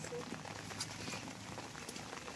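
Steady rain falling on a hillside of trees and grass, a dense even hiss of drops at moderate distance with no pauses, faint under a low background rumble.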